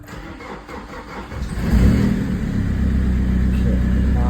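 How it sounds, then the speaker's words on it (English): A car engine cranks and catches during an air-conditioning refrigerant recharge, then settles into a steady, fairly loud idle close by. "So now we're just gonna start the car."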